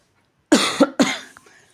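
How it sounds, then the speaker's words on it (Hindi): Two sharp, close coughs from a person with a sore throat, the second followed by a fainter throat sound, alone in a quiet room. "मुझे ना खांसी हो रही है"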